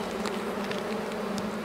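Honeybees from an opened hive colony hum steadily in a low, continuous drone, fairly faint and close, with a few individual buzzes passing by.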